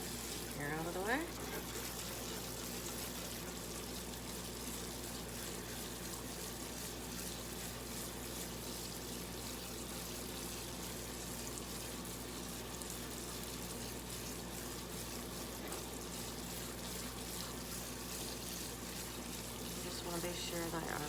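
Food getting a thorough rinse under a running kitchen tap, a steady close rush of water that runs unbroken from start to end, with faint clatter at the edges.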